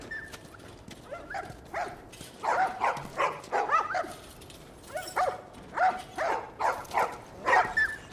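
Several dogs bark and yip in the video game The Last of Us Part 1. The barks come close and loud in a rapid, irregular series with whimpering between them, and no one speaks over them.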